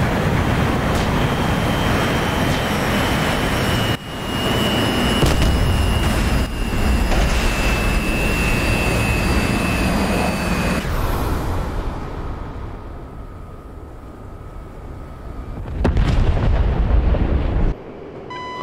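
An AIM-120 missile and jet combat in the DCS World flight simulator, flying an F-15C, produce a loud, continuous roar of jet engine and rushing air for most of the clip, with sharper bursts and a fading, thinner stretch toward the end.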